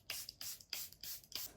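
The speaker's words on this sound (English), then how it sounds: "Spray with setting spray." Makeup setting spray is misted in five quick, evenly spaced pumps, each a short, bright airy hiss, close by and quiet, with no one speaking.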